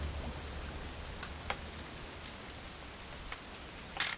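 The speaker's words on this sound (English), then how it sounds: "gonna rain the whole weekend" Steady light rain patters on surfaces in the video game What Remains of Edith Finch, a soft continuous hiss with occasional louder individual drops ticking nearby.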